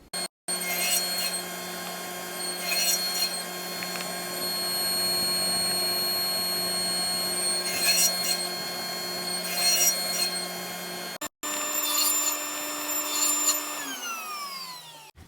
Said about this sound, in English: So we'll make the first cut, spin it 180 and make the second cut